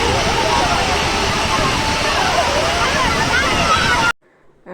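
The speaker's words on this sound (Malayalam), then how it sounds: "ശരിക്കും നമ്മളൊരു വെള്ളച്ചാട്ടത്തിൻ്റെ അടുത്ത് പോയാലുള്ള സൗണ്ട് ഉണ്ടല്ലോ വെള്ളത്തിൻ്റെ" An artificial Niagara-style waterfall at the Palakkad Fest gives a loud, steady roar of rushing water for about four seconds before it cuts off abruptly into near silence.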